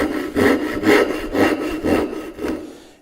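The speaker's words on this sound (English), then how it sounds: "I got a little cross-cut back saw" A cross-cut back saw cuts a notch in wood by hand, giving close, loud rasping strokes in a steady back-and-forth rhythm of about six strokes that stop at the end.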